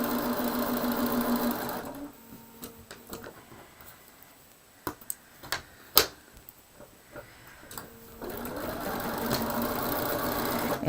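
A domestic sewing machine joins improvised crumb-quilt blocks, its motor whirring steadily at the start and again at the end. Between the runs come scattered ticks and clicks as the fabric is repositioned.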